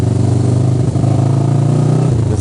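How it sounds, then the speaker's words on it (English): A Honda CB400 naked motorcycle runs loud and close with a steady mid-pitched engine note, shifting slightly as it passes. "I'm guessing it's a CB400. It's a Honda and it's naked."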